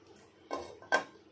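Barnyard millet (vari) dry roasting in a pan: a quiet scrape, then two sharp metallic clanks of a utensil against the pan about half a second apart, heard alone.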